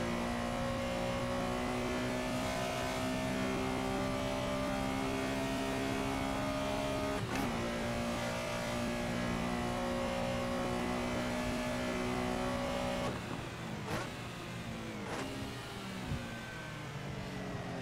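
Carrera RSR race car engine in the racing game Assetto Corsa, a sustained droning whine held at high revs, then sharp pitch drops and rises from gear changes near the end, steady and continuous with no talk.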